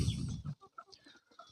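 Chickens on a poultry farm with Fayoumi hens among the flock: a short burst of soft, close clucks and brief calls in quick uneven succession, after a louder opening.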